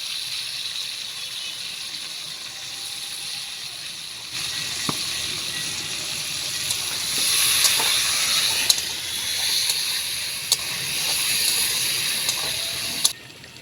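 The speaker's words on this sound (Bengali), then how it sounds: "আলু ভাজা হয়ে গেছে, গ্যাস অফ করে দিয়ে দেবো" Potatoes with turmeric frying in a pan, a steady hissing sizzle that swells partway through, with a few sharp clicks and taps scattered over it, no voices.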